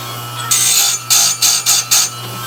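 Teeth of a Jonsered 80 chainsaw chain being ground on a stone wheel, heard as four or five short, loud, hissing grinding bursts separated by brief pauses over a steady low hum.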